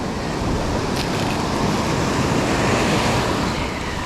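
Powerful ocean waves surge onto a soft-sand salmon fishing beach at Coles Point, South Australia, a dense continuous roar of surf with wind buffeting the microphone.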